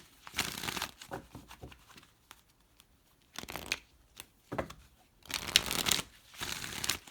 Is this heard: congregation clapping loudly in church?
no